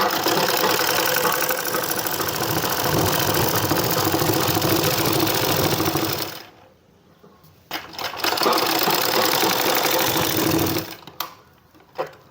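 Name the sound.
sewing machine stitching a kurti top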